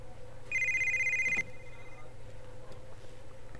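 A telephone in the video game GTA Vice City rings once with a bright electronic trill, fairly quiet, lasting about a second and then trailing off over a low background hum. Nobody speaks.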